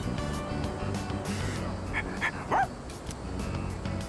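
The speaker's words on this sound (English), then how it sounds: "I don't know if I've ever referred to a dog's bark as a dog's voice" Koromaru, a dog character in Persona 3 Reload, gives a few quick, high yips and barks over steady game background music.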